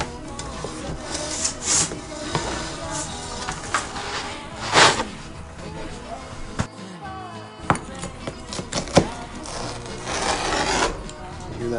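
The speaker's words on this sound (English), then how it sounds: "Hear that crispiness in the crust?" A crispy, salt-bottomed homemade pizza crust is handled and slid on a metal pizza screen, giving close, irregular crackling rubs, scrapes and crunches, with bursts of louder rasping and brief quiet gaps.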